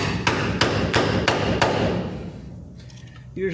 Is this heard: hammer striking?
yes